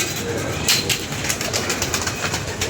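Pigeons coo close by in a continuous, dense murmur, with a few brighter bursts of calls rising over the steady background.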